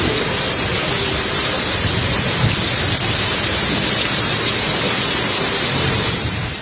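Heavy rain pours down in Kolkata, a loud, dense, unbroken hiss of drops hammering surfaces that holds steady without a break.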